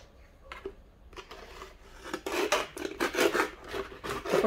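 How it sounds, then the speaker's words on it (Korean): A utility knife cutting through a plastic PET bottle, giving scratchy rasping strokes that start faint and sparse, then grow louder and quicker in a steady sawing rhythm, close up with no talk. "커터칼로 하면은 위험하지 않고 이렇게 잘 자를 수 있습니다"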